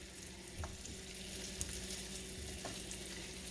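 Pork steaks frying in a skillet, a steady crackling sizzle with low hum and a few soft pops and scrapes as the meat is moved, close and continuous with no talking.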